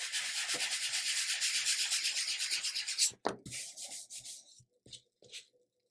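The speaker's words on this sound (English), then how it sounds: "I'm just going to sand really lightly because I don't want to accidentally sand out some of that engraving." Light hand sanding of laser-engraved layered wood gives a steady, close rhythmic rasping for about three seconds, then stops and leaves a few soft taps and scrapes.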